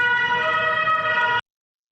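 A steady, loud electronic ambulance siren from a stationary source holds a constant pitch for over a second, then cuts off abruptly into silence.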